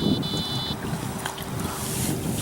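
Fishing boat motor trolling slowly on open water, a steady close low hum mixed with wind and water rush, plus a short high electronic beep at the start.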